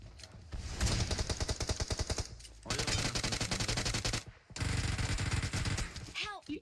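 Gunfire in the mobile game PUBG Mobile, loud sustained automatic bursts in three long strings separated by short gaps, with a voice faintly underneath.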